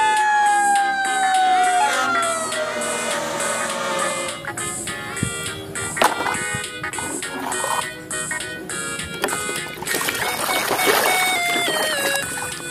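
A fire ladder truck siren wails with a falling electronic tone and repeated pulsing beeps, loud and close, mixed with rattling and clicking sounds.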